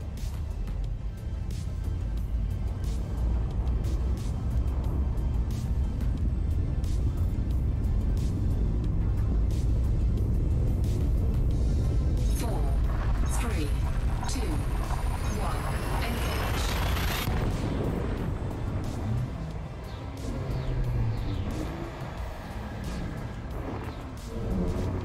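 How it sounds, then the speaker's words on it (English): Frame shift drive in the Elite Dangerous space game charging and jumping, a loud sustained rumbling roar that builds with a rising sweep before easing off, with a synthetic voice briefly announcing over it. "Frameshift drive charging."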